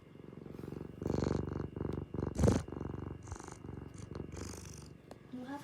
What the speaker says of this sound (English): You have a nice purr.